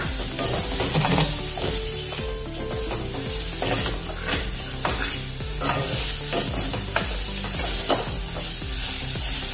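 Onions and ground spice paste sizzle loudly in a hot pan for pulao while a utensil stirs and scrapes repeatedly, a busy continuous frying sound with no talk.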